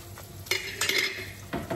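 Butter sizzles in a frying pan before eggs go in, a soft hiss under sharp metallic clinks and scrapes of a utensil against the pan, close and fairly quiet.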